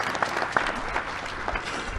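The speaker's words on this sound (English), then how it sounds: "let's give them a good round of applause." A crowd applauds steadily at a South African repatriation homecoming ceremony, with dense clapping throughout that stays even in loudness, close and lively.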